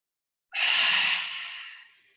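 A single long breath released during a Pilates side-bending exercise, a breathy airy exhale rising sharply then slowly fading away over about two seconds, close and fairly loud with no talking.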